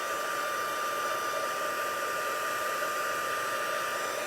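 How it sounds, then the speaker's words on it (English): A heat gun for embossing runs alone as a steady, close, loud blowing whoosh from start to finish, with no break or change in pitch and no talk over it. "So now I'm going to bring in the heat tool."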